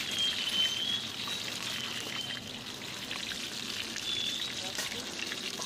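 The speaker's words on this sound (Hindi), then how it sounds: "दोनों साइड से इसको अच्छे से ब्राउन होने तक फ्राई करेंगे।" Pieces of meat for an Arabian-style mandi fry in a little oil in a kadai, giving a soft, continuous sizzle and crackle. A voice talks quietly underneath the sizzle.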